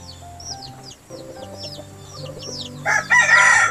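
Chickens cluck and chirp steadily close by at a hut on a mountain, with a rooster crowing loudly near the end over a faint background hum.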